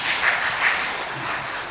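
A congregation at a church sermon applauds, giving a steady wash of many hands clapping that holds evenly throughout.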